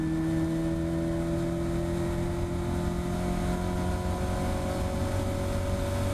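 A Caterham race car laps Cadwell Park during a Caterham Academy race, its engine droning loud and steady from onboard with sustained tones and only slight shifts in pitch; no voices.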